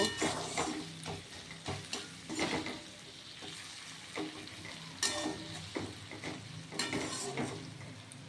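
Panch phoron, black cumin and ground spices sizzle and crackle in a hot pan with onion, with scraping stirs and occasional metallic clinks of a spatula, close and steady.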